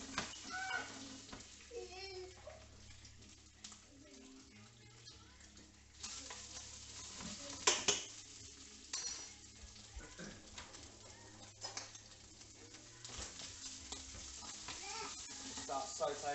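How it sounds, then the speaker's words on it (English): Prawns sauté in a hot pan at home, giving a soft, continuous sizzle with occasional stirring clatter, fairly faint, while birds coo in the background. "Whilst that's in there, I'm going to throw the prawns into the pan."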